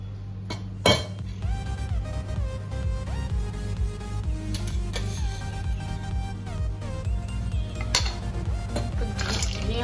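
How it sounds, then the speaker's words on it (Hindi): Ghee goes into a pan over a gas flame, with a soft liquid pour and scattered clinks of metal utensils against cookware, close and fairly quiet, no voices. "और अब हम डाल देते हैं इसमें घी।"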